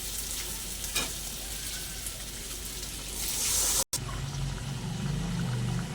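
Water poured into a pan of frying soybean and egg curry: a loud continuous sizzle and hiss, a sharp break, then a lower, steadier bubbling simmer.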